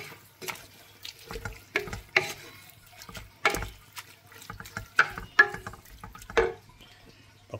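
Ginataang kinunot na pagi, a coconut-milk stingray dish with malunggay leaves, bubbles and splashes in a cooking pot, with soft irregular bursts and stirring sounds close by.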